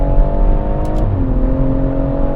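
A BMW M140i engine revs loudly and steadily, then the pitch drops briefly at a shift into fourth gear around the midpoint before climbing again, with no talking.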